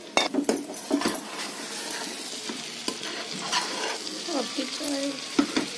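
Fried jackfruit goes into a hot pan of masala and sizzles steadily while a spoon stirs and scrapes, with occasional metallic clinks of utensils against the pan.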